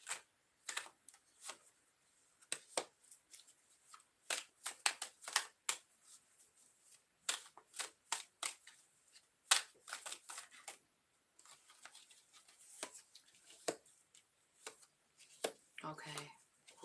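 Tarot cards being shuffled and drawn, a long run of quick crisp snaps and riffles in irregular bursts, fairly quiet and close, with no talking.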